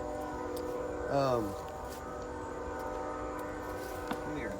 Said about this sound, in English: Of course, the train's got to come through.